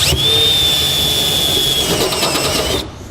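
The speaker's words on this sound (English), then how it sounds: "using a step bit will work just fine. So let's enlarge those." A power drill with a step bit whines loudly at a steady high pitch, enlarging holes in metal for a few seconds before spinning down.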